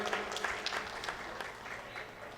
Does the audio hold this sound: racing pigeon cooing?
no